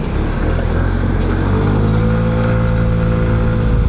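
Suzuki Burgman 150 scooter engine pulling away and accelerating, a steady loud motor hum whose pitch climbs gradually as it rides off, heard close with no talking.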